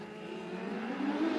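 Race cars at Bakersfield Speedway roar off turn four on a green flag start, a dense, steady engine drone that swells gradually louder as the field accelerates, with no talking.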